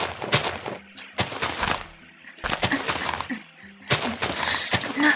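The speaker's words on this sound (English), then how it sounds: "Some big explosion." Repeated loud explosion blasts in the Minecraft video game, creeper detonations arriving in several dense clusters of booming, crackling bursts separated by brief lulls.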